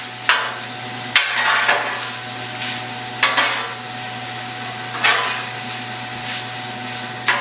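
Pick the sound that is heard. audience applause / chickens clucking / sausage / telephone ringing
sausage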